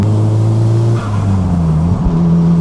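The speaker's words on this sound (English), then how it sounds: "the backfire's echo like extra loud through here" A Nissan Silvia S15 engine drones loudly and steadily on a mountain road, its pitch shifting as it revs and drops, with sharp exhaust backfire pops echoing at the transitions, no talking.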